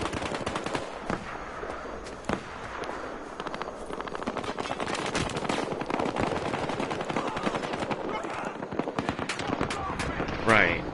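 Gunfire from the video game Battlefield Hardline, dense rapid bursts and shots running steadily throughout over a busy game mix, with players' voices talking over it.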